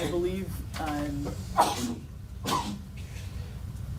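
A single sharp sneeze or cough-like burst from a person speaking indoors, with a second smaller burst a second later, mixed into ongoing talk.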